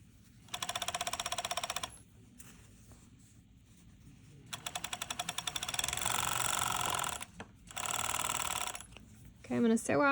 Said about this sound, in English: I'm going to sew off and then separate my needle threads from my looper threads.